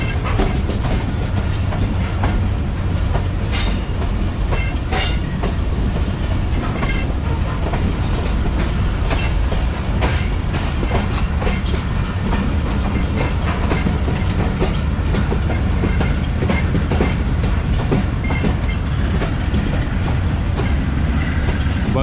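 Onboard the 40DN Jaffar Express in Balochistan, a continuous loud rumble of the moving train with repeated clicks of wheels over rail joints and occasional squeals, no voices.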